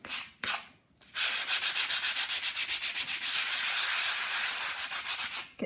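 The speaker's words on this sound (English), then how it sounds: "I've put this polyfiller in and now I'm just sanding it" Polyfiller on a plastered archway is sanded by hand: after two brief scrapes, a close, loud run of rapid, even back-and-forth rasping strokes continues steadily, with no talk.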